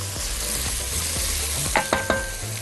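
Celery and garlic fry in a pot with a steady soft sizzle, while a spoon stirs and scrapes, giving a few distinct clinks and knocks near the end, close and fairly quiet, without any talking.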